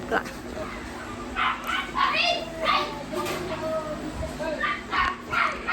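A dog barks and yips in short repeated bursts, with children's voices and chatter mixed in the background.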